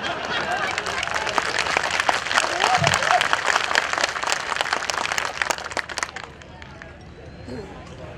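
A crowd claps at a political party's Suheldev Rajbhar Jayanti rally in Mumbai, with sharp scattered claps building into sustained applause, then thinning toward the end while a voice speaks through it over a PA.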